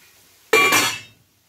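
A lid set onto a pan of cabbage in a kitchen, a single sharp metallic clink that rings briefly and fades within about half a second.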